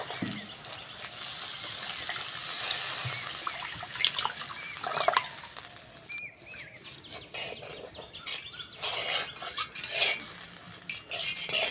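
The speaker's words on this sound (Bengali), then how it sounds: "এবার জল দিয়ে দেবো।" Water is poured into fried spices in a pan for a cabbage kofta curry, followed by spoon-on-pan scraping and stirring clatter, with a fizzing wet sizzle in between.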